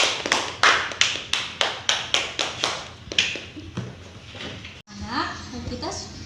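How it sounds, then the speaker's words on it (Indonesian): A classroom gives rhythmic applause, about a dozen loud, evenly spaced claps in unison that slow and trail off before voices take over. "Berikan tepuk tangan untuk Naafil."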